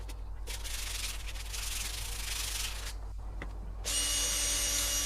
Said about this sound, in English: So here I've got some sandpaper. I'm going over the whole thing, just getting any corrosion that is left on there.